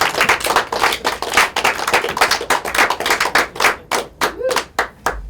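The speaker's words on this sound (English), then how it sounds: "Give them both a round of applause" Audience at a live mentalism show applauding, with distinct sharp claps in a quick, uneven rhythm that thin into fewer, separate claps toward the end.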